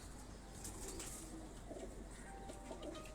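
Tonsi pigeons kept at a home loft coo faintly, giving a few soft, low coos over a steady low hiss.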